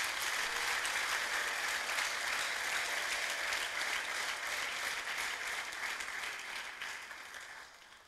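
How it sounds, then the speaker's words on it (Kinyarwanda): Sustained applause from a church congregation at an ADEPR Gatenga Sunday service, dense and steady throughout before tapering slightly toward the end. "ndagira ngo tuyihe amashyi menshi tukiyakira"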